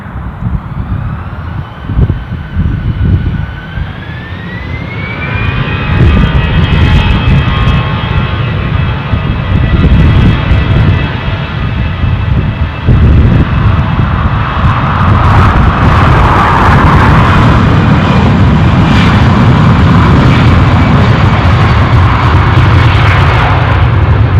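A jet plane at Dublin International Airport spools up into a loud, sustained engine roar with a rising whine, heard close and continuous for about twenty seconds.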